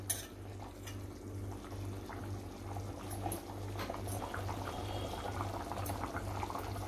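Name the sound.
bangda mackerel curry boiling in an open pan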